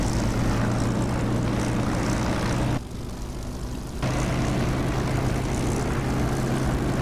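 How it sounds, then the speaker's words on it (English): A Spitfire's propeller engine drones steadily in the DCS flight simulator, loud and continuous with a low hum. It dips briefly partway through, then returns at full strength. "a Spitfire, when land or take off, you need to go take a bit more care with a Spitfire"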